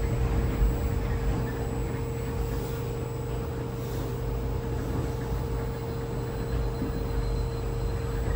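Interior of a Moscow monorail train car running at low speed, giving a steady, continuous rumble and hum with constant hiss, with no talk over it.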